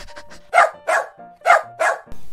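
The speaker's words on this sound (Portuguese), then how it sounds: "Os cachorros fazem au-au." A dog gives four loud, evenly spaced barks close by, each short and sharp, with quieter yips and a brief whine between them.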